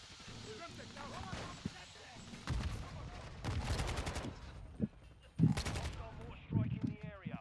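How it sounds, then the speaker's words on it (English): Mortar strikes in Modern Warfare II land as a run of heavy booming blasts and crackling gunfire in uneven bursts, mixed with speech and other game sounds. "Oh, mortar strikes."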